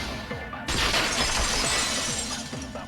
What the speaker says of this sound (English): It was the sound of the glass breaking on the van.